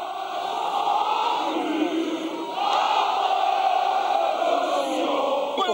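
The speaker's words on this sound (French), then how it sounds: "dans la foule, la Marseillaise retentit" A large crowd outside the Zénith singing La Marseillaise together, a loud massed chorus of voices swelling in sustained sung phrases, with a brief dip and then a louder renewed surge.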